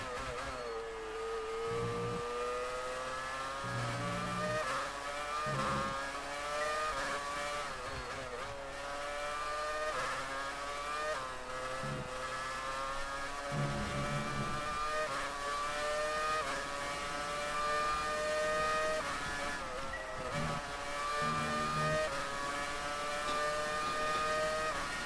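Formula 1 car engine in the F1 2019 game at the Spanish Grand Prix, screaming continuously at high revs with rising and falling pitch through gear changes, loud and steady without talk.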